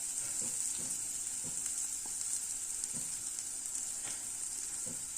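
Onions sautéing in a pan for tomato rice, a steady bright sizzle with soft stirring scrapes repeating through, and no talking.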